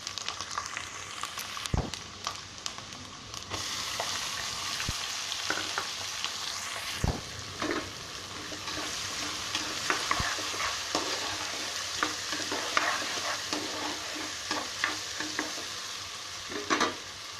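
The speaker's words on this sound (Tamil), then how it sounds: "வெங்காயம் வதங்கட்டும்." Onions with garlic sauté in a pan for a tamarind kuzhambu, a soft continuous sizzle broken by frequent scraping and clinking of a spoon stirring, close and moderately quiet.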